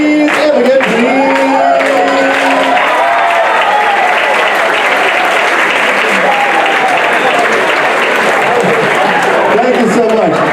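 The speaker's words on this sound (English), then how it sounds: "I've never heard that kind of an applause" Loud, sustained audience applause fills a campus open discussion with dense clapping, occasional whoops and cheers throughout.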